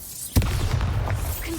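Bombarda blasting spell from the Hogwarts Legacy video game, one sharp explosive boom followed by a rumbling crackle that fades over a second.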